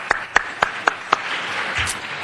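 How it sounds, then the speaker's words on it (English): Brief applause for a newly voted-in city council commissioner at a council meeting: five or six sharp, separate claps open it, then dense clapping spreads through the chamber and holds steady to the end. "A round of applause for our new commissioner at CRA"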